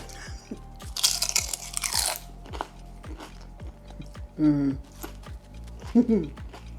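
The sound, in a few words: biting into crunchy vegan spinach and feta pie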